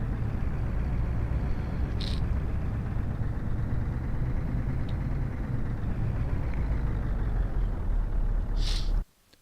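A truck engine in Euro Truck Simulator 2 drones with a steady, loud low rumble throughout while parked at a disused bus station, then cuts off abruptly at the very end.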